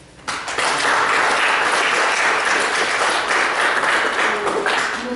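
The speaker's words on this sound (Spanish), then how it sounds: "Le recibimos con un fuerte aplauso" An audience at a literature lecture breaks into strong, continuous applause after a brief quiet start, staying loud and even to the end.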